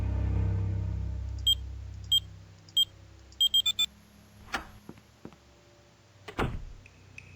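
A keypad in the Blackwell adventure game beeps as buttons are pressed: a string of short, crisp electronic tones, first spaced out and then a quick cluster of four, followed by a few soft clicks and thumps.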